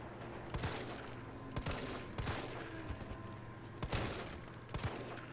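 Gunfire in the survival horror game Resident Evil 3 Remake: a series of sharp shots fired one after another in an uneven rhythm over a low background hum, loud and close.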